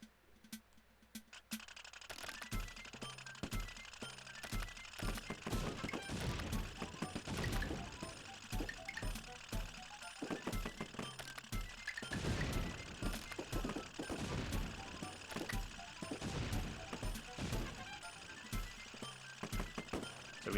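Tank cannon shots and ricocheting bullets in the Wii Play Tanks video game, a busy stream of sharp clicks and bursts repeating steadily across the whole stretch, fairly quiet overall.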